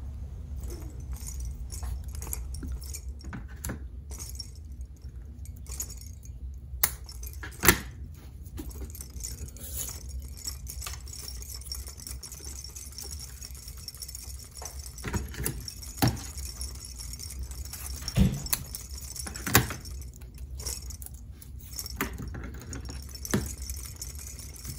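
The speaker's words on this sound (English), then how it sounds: "Now to attach my jingles, I will use twisty ties." Bottle cap jingles and twist ties handled while assembling a recycled tambourine: scattered light metallic clinks and rattles in short clusters, fairly close, over a low steady hum, with no talking.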